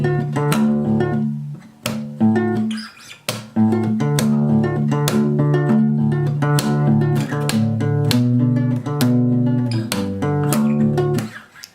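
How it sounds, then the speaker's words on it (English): A strummed guitar plays chords, strings muted by the left hand to give sharp percussive scratches between strums, loud and rhythmic, with no voices. "you kind of mute all the strings with your left hand"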